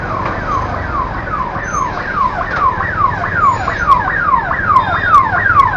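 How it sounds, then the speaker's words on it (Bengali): An ambulance siren wails in a steady repeating rise-and-fall pattern while stuck behind a large bus on a crowded main highway, heard loud and continuous over road traffic rumble. "তার পেছনে অ্যাম্বুলেন্স আটকে গেছে"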